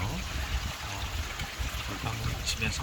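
Water drips and trickles down a natural rock face coated with waterproofing liquid at a newly built farm rock pond, a steady soft patter and dribble close by with faint background noise.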